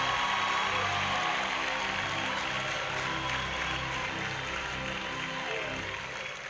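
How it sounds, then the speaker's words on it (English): Audience applause at a university matriculation ceremony at the University of Benin, a dense, sustained wash of clapping from a large crowd that stays steady and fades slightly toward the end. "Let's clap if you want to clap."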